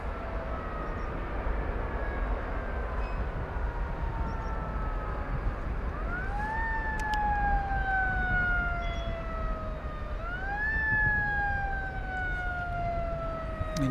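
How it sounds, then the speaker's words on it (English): A fire truck siren wails near DFW Airport at night, its rising and falling tone sweeping up twice over a steady background rumble, fairly distant but clear and uninterrupted by talk. "you hear the emergency siren there, a fire truck."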